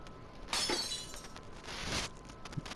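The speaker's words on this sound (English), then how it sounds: "The sound of glass shattering rents through the air as soon as her hold on it loosens." Glass shattering in an audio drama: a sharp crash of breaking glass followed by a second burst of scattering shards and a faint final clink, heard alone without voices.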